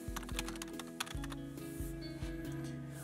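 Keys clicking on a computer keyboard as an email address is typed, a quick irregular run of light taps over a steady electronic hum and some background music, close and fairly quiet.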